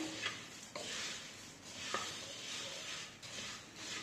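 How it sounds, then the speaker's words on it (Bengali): Dry puffed rice (muri) being stirred while roasting in a pan, a steady soft rustling, scraping texture with light clicks of the stirring utensil, close and continuous without talk. "এটাকে নাড়তে হবে, নাড়তে নাড়তে একেবারে হালকা একটু কালার চলে আসবে"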